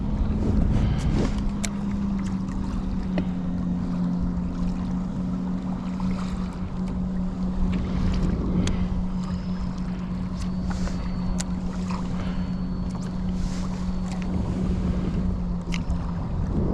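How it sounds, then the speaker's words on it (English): Steady wind and low boat drone while a fishing boat drifts offshore, with a constant low hum and occasional rustling and splashing, no voices. "But this wind's kicking up."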